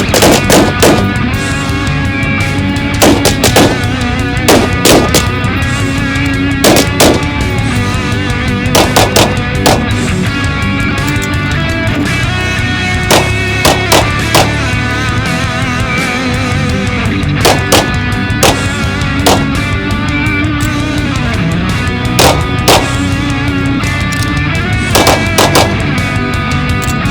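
Firearms qualification at a SWAT/SRT range, with loud sharp gunshots ringing out in irregular clusters of single and paired shots over a steady background hum, no talking.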